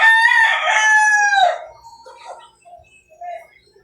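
A rooster at a poultry yard crows loudly and close in one long call, followed by a few soft scattered clucks from chickens.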